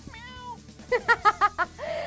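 A person imitates a cat, giving a drawn-out meow followed by a quick run of five short mewing yelps, close and fairly loud.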